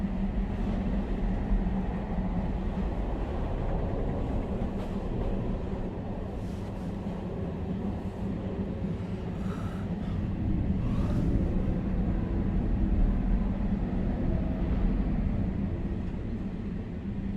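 A steady rumbling train roll in the game Beyond: Two Souls, with a constant low drone and faint metallic rattles, continuous throughout without pauses.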